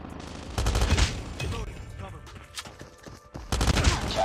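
Rapid bursts of automatic gunfire from the mobile shooter game COD Mobile rattle in repeated volleys with short pauses, mixed with game sound effects and a voice talking over them.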